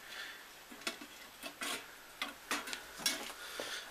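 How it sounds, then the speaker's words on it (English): A pan of hot avocado oil, heated for melting Delrin, is swirled and stirred, giving soft scraping ticks and light clinks in an irregular rhythm over a faint sizzle, close and quiet. "if you just basically sort of like stir the pan round like that"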